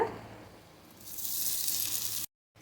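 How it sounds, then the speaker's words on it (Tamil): Cooked rice tipped into a pan of pepper masala sizzles quickly, a soft clatter at the start swelling into a bright frying hiss that cuts off abruptly. "இப்போ இதோட நம்ம வடித்து வச்ச சாதத்தை சேர்த்துக்கோங்க."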